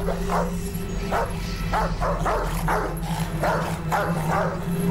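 A dog barks in a series of repeated yips and barks, up close, over a steady background hum.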